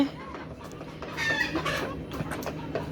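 A busy flock of Fayoumi chickens clucks repeatedly, with a few sharper calls rising over a steady farmyard murmur.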